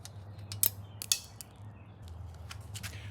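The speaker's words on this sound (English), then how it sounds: "I use my Allen key to unscrew the connecting bolt" An Allen key working a bolt on a 1994 Bridgestone MB-2 bicycle's front derailleur, giving a few faint, scattered metallic clicks and creaks over a low background hum.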